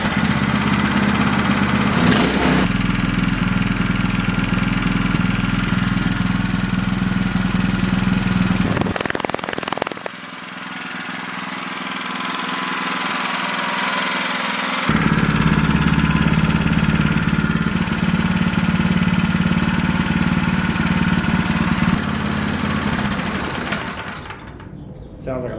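A small MXR212 or MXR420 engine, sounding like a lawnmower, runs steadily and loudly for a long stretch, its droning, buzzing note dipping briefly midway before revving back up.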